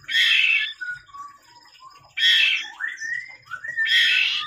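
Loud, close calls of a white-rumped shama chick: three harsh squawking bursts separated by thinner rising whistled chirps, with no talking.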